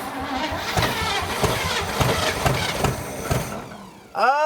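A 1957 Chevy V8, run after more than 40 years of sitting, roars steadily with rough pulsing firing close by, then cuts off as a voice shouts out excitedly.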